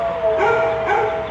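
Dogs in animal shelter kennels give a short run of yips and whimpering barks, loud and close, with no voices.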